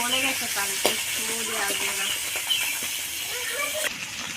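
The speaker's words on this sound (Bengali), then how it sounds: "বাকি মাছটা আমি এইভাবে ভেজে নেব" Pomfret fish frying in oil in a wok, a steady broad sizzle with occasional sharp spatters. A nearby voice speaks over it at moments.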